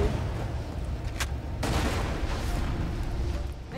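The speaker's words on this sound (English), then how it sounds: "Hyperion shotgun" A Hyperion shotgun fires in Borderlands amid a loud chaotic firefight, with sharp broadband blasts around the first two seconds over continuous gunfire and explosion rumble.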